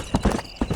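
Horse hooves clip-clopping in the Western video game Red Dead Redemption, a few close, distinct thuds in an uneven rhythm over a low background.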